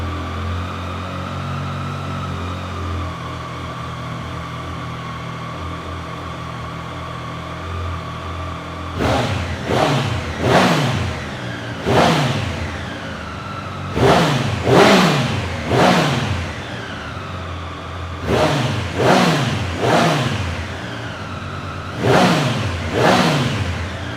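A Triumph motorcycle with its stock exhaust idles smoothly and steadily at first. Then comes a run of sharp throttle blips, close and loud, in quick clusters of two to four revs that each rise and fall back to idle.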